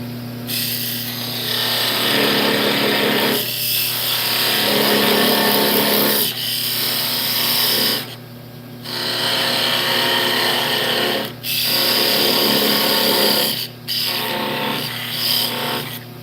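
A wooden yoyo made from firewood spins on a lathe while a tool cuts it, giving a loud, close, steady scraping rasp. The rasp is broken by several short pauses where the cutting stops and restarts.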